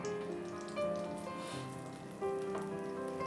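Butter melting in a hot pan for Mumbai-style masala pav, giving a steady soft sizzle like light rain, with a few brief tonal sounds rising over it.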